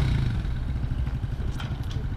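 A TaoTao Cheetah 125cc ATV drives forward nearby, its small engine putting out a steady, chugging mid-pitched drone with some clatter.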